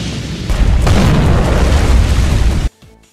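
Big explosion in a Metal Gear Solid: The Twin Snakes cutscene, a loud, sustained booming roar lasting over two seconds before cutting off abruptly into near silence.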